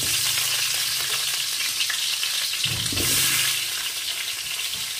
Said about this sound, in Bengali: সেই আলুগুলোকে ভালো করে ভেজে নিতে হবে